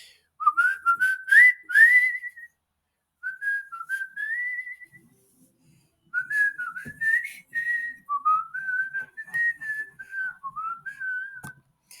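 A person whistles a wandering tune alone, clear melodic phrases rising and falling in three or four bursts separated by short pauses, close and moderately loud.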